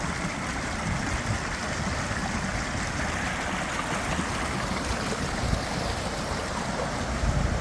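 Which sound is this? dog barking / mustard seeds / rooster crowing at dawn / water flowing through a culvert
water flowing through a culvert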